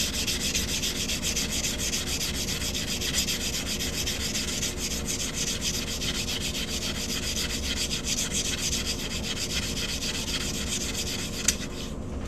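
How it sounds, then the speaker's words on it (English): Steady abrasive rubbing as the cut edge of a quarter coin ring is sanded, a continuous close scratchy hiss with no pauses, ending with a single sharp tick near the end. "I'll go ahead and clean up this cut edge and sand that up a little bit."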